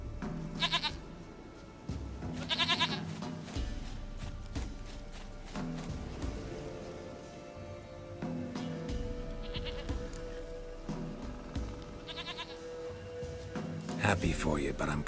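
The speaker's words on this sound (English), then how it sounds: "Goat of mine, dearest," A goat bleats repeatedly in The Witcher 3: Wild Hunt, with several loud, wavering calls spaced through the scene over steady in-game ambience, while someone speaks between and over the cries.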